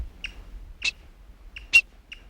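Short, sharp high-pitched calls of a black-backed woodpecker, probably a female, sound a few times at uneven intervals in a burnt forest, some fainter than others, over a quiet background.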